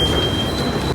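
A Delhi metro train rumbles loud and close for a brief moment, a continuous roar with a thin high whine or wheel squeal riding over it.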